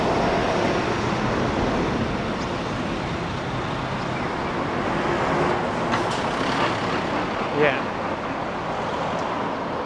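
Traffic and buses moving along a central Kurume city street in the evening, a steady broadband roar of passing vehicles with no distinct single pass standing out.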